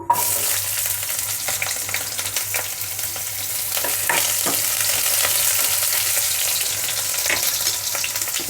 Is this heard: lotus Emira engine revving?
no